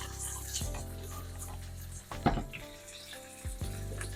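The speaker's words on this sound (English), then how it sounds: "kind of pan fry like this for about 5 minutes until it gets a nice brown layer" Tofu pan-fries in a wok for Korean spicy braised tofu, giving a faint, low sizzle broken by a few soft knocks and clatters as the pan is moved.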